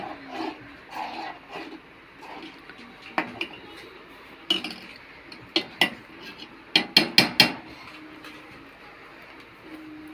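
A spoon scraping and clinking against a metal pan while tea is stirred continuously, soft rustling at first, then a run of sharp, close metallic taps bunching together near the end.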